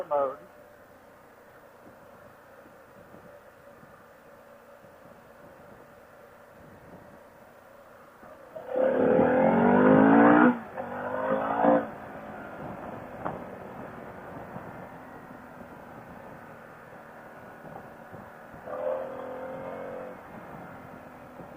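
A Harley-Davidson Pan American motorcycle in sport mode on back roads, with a quiet steady engine and wind noise, then a loud burst of hard acceleration, a shorter second surge and a later brief rev, with a rider talking in between.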